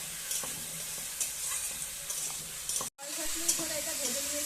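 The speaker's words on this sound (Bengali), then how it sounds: "একসাথে এটা ভেজে নিচ্ছি।" Vegetables and taro sizzle steadily as they fry together in a pan, with a soft hiss throughout, a few light stirring scrapes, and one brief dropout partway through.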